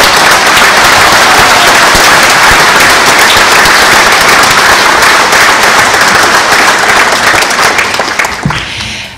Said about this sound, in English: you all deserve your own round of applause